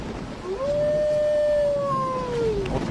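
A dog or wolf howls in the S.T.A.L.K.E.R. video game, one long rising and falling wail close up, with no speech over it.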